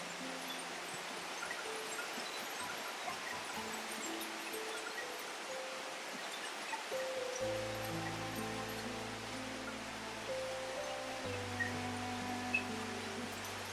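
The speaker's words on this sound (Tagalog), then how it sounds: "Grabe yung ulan mga tol, grabe yung sobrang lakas talaga." Heavy rain pours steadily in a broadband wash that stays constant throughout, with low tonal hums and faint background sounds underneath and no talking.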